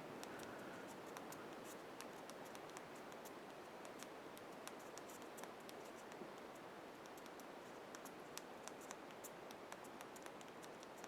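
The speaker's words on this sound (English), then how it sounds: "let's do a real quick keyboard test just to see." Rapid soft clicking of small keys typed on quickly and continuously on a Motorola Droid 3 phone's physical keyboard, faint and close, over a quiet hiss.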